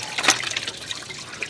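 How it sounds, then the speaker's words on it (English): Coolant water gushing and splashing out of an opened thermostat housing on a 2005-2010 Honda Odyssey engine, a steady close-up pour with a brief louder splash near the start. "That's gonna dump water."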